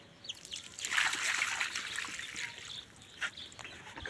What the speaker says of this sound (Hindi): बाकी जो है इधर डाल देते हैं अनार में